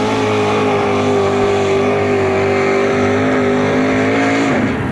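Roger Crawford's truck, the Bandit, roars at a 1989 truck pull in Bowling Green: a loud, steady, close engine drone held at high revs throughout, dipping slightly in pitch near the end.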